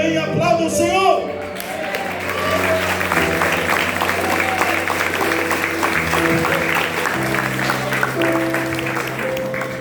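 A church congregation applauds at an evangelical service, steady clapping lasting throughout, with sustained organ or keyboard chords underneath and voices mixed in.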